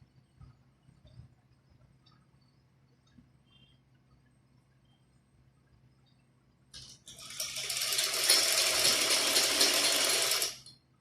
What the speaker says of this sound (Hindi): ये पहला टांका आराम से लगाएं ताकि इसमें कोई सलवट ना पड़े।